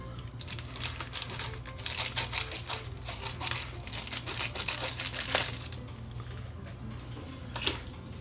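Recycled Amazon Prime plastic mailer bag handled and crinkled up close, with bursts of crisp rustling and crackling that come and go and fade toward the end.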